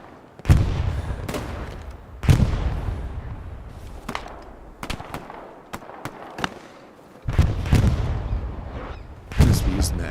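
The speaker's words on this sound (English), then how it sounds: "Oh, that's a fucking Garand, ain't it?" M1 Garand rifle fire in the World War II shooter Hell Let Loose: sharp, booming shots at irregular intervals, several loud close reports with echoing tails between quieter distant cracks.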